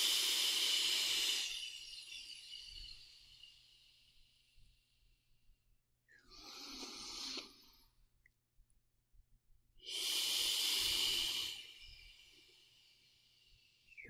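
A long, deep breath cycle in a quiet room: a strong, airy exhale rushes out at the start, then a softer inhale, then another full, forceful exhale, each close to the mic and heard alone without talk.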